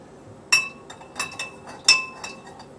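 A utensil clinks against a glass bowl while stirring a warm yeast mixture for kolache dough, with two sharp bright clinks and a few lighter taps between them, close and clear in a quiet kitchen.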